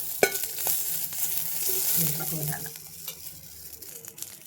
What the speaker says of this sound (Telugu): ప్యాన్ వేడైన తర్వాత ఈ ఆయిల్ వేడైన తర్వాత ఇందులో పచ్చిమిర్చి మంచిగా గోలాల